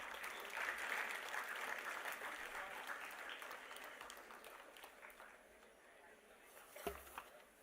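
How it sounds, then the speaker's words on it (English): Audience at a university day ceremony in a hall applauding a student award recipient, a steady broad wash of clapping that slowly thins toward the end, with a short louder burst near the close. "A round of applause for Purvija."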